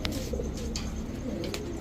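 Indian pigeons kept for sale give soft, repeated coos at close range over a steady low background hum.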